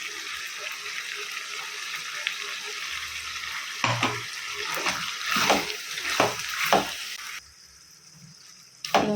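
Chicken dry-frying in a pan as powdered chili is added, a steady sizzle broken by a run of louder stirring scrapes and clatters, then a quieter stretch at the end.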